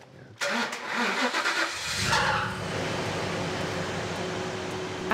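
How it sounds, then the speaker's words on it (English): A Ford XR8 V8 with uprated camshafts and adjusted timing cranks briefly, fires, and settles into a loud, steady idle on a dyno, its rumble filling the room with no talking. "should we give it a go?"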